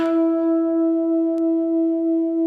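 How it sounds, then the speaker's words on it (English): Two guitar strings sounding the same harmonic slightly out of tune, a steady sustained tone with slow, regular swells of beating in loudness, one brief click partway through, no talk. "if one of the strings is slightly out of tune with the other one, you hear beats"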